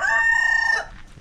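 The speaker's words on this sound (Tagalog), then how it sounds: "At kay Ate Marisa Cristovich, ang dami na daw manok." A rooster at a backyard lechon business crows once, loud and close, holding a strong sustained note for most of a second before it breaks off into quiet farmyard background.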